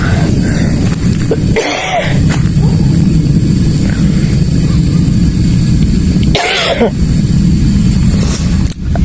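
Two sharp coughs, a few seconds apart, close by over steady outdoor road and engine noise.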